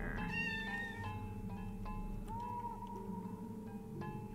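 A character in the video game OFF meows loudly, a sustained cat-like wail over a droning, echoing musical background.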